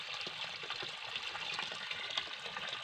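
A stream of water flowing outdoors, a soft steady trickling and babbling heard faintly and continuously at moderate distance.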